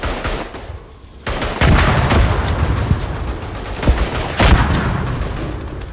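Artillery fire in the World War I game Verdun: heavy booms and rumbling blasts, some close and loud, mixed with rattling gunfire across a noisy battlefield, with a brief lull near the start.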